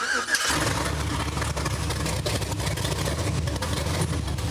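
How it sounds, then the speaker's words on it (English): A V8 engine, an LS in a Chevy K1500 pickup, cranks and catches, then settles into a steady, deep running rumble nearby. "You just can't beat the sound of a V8 with a nice healthy 10 in it"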